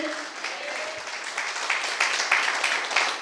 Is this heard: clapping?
yes